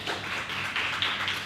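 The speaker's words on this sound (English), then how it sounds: "can you give him a good loud applause?" An audience at a motivational talk claps for a participant, a brief burst of steady, moderately loud applause.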